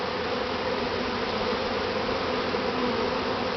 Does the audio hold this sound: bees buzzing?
yes